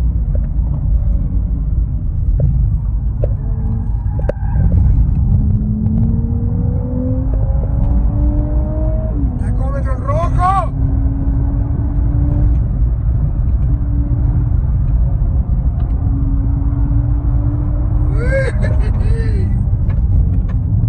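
A Nissan Z sports car with a 400 hp engine and 1601 kg weight, accelerating hard on a lap, its deep engine note climbing repeatedly in pitch through several gears, loud and close.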